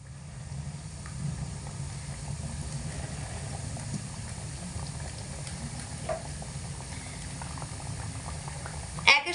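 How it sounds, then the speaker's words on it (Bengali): Pieces of angle gaja dough sizzle and bubble steadily as they deep-fry in hot oil, a continuous close frying hiss with no talk over it and a brief clatter near the end. "এবার এই আঙুলি গজার লেচিগুলোকে দিয়ে দেব খুব বেশি গরম তেলে দিলে কিন্তু উপর থেকে তাড়াতাড়ি ভাজা হয়ে যাবে"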